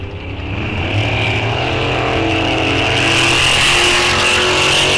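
A Ford and a Chevy drag race car launch at a raceway during a bracket series event, engines roaring loud and sustained, pitch rising as they pull away, with no talk over them.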